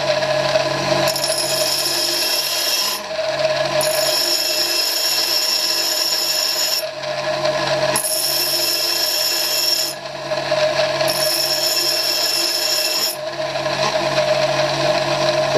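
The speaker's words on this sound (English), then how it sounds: "I'm now going to grind a little bit of back brake on it that way." A bench grinder with an adjustable head grinds back rake onto a screw-cutting tool bit, a loud, harsh rasping whine in several sustained passes, each lasting a few seconds, separated by brief dips as the bit is lifted away.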